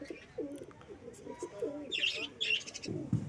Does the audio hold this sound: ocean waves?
no